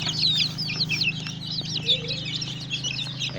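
Native Nigerian chickens, an active flock, cluck and chatter continuously close by, with quick overlapping calls over a low steady background hum.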